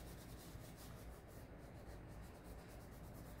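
Fingertips rub and smudge graphite pencil shading on paper while drawing a dolphin, making a soft, continuous, close scuffing sound with gentle back-and-forth pulses.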